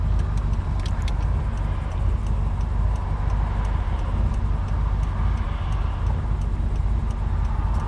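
A 1970 Chevrolet Chevelle SS with cowl induction idles on a hot day, held running with light throttle, a loud, steady low rumble with faint fast ticking close by and no talking.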